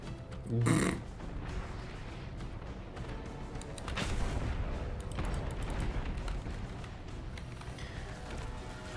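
Rockets fire and burst in Destiny 2 during Lightfall gameplay, a sharp blast near the start followed by a sustained rumbling wash of explosions and game effects, with another swell of booms midway.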